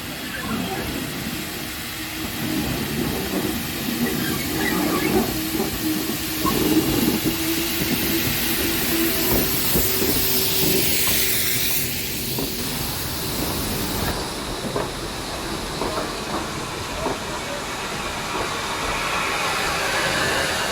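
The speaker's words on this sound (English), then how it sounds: "catching Horden and Dora with a 3-coach passenger train, arriving just 2 minutes late at 12:23" Steam locomotives Horden and Dora arrive at a platform on the Tanfield Railway hauling a three-coach passenger train, a long rumbling approach with hissing steam and clanking wheels, loud and near, with voices in the crowd around.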